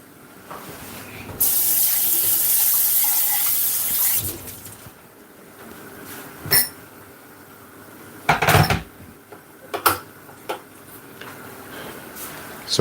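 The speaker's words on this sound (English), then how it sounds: "Just gonna rinse this off a little bit." Tilapia rinsed under a running kitchen tap, a steady rush of water for a few seconds followed by scattered clinks and knocks.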